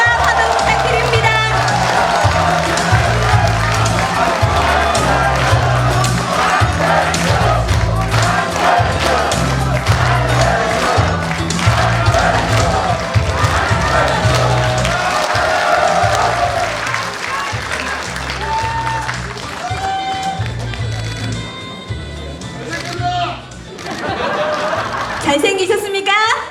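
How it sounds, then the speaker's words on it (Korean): A studio audience at a Korean political talk show applauds and cheers as a guest, a former party co-leader, is introduced, with loud crowd noise, laughter and music running beneath throughout. "큰 박수와 환호 부탁드립니다."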